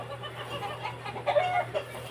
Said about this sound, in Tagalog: Tatlo-tatlo kasi manok dito.